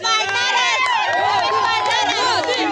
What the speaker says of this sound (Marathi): मोदी मोदी मोदी जल्लोष आहे